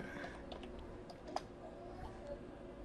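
Light typing on a computer keyboard, quiet scattered key clicks with one sharper tap near the middle, over a soft room hum.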